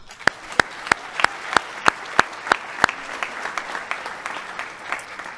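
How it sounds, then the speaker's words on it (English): Applause for athletes of the year at a high school athletic awards ceremony, led by loud, evenly spaced near claps, with softer scattered clapping from the room continuing behind. "Big round of applause."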